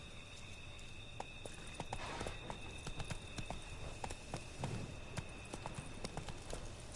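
Hooves of Roach, the horse in Witcher 3: Blood and Wine, clip-clop in a steady quick rhythm over ground. The footfalls stay fairly close and even throughout, with faint game ambience underneath and no clear talking.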